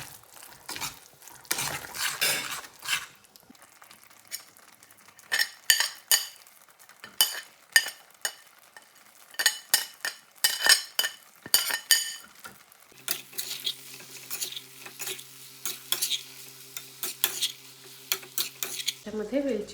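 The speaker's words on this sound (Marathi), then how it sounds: "मिक्स करूया एकदा." A spoon stirs Maharashtrian sweet coconut rice with turmeric and cardamom in a pan, giving close, irregular scrapes and clinks of metal on metal, with a steady hum in the later part.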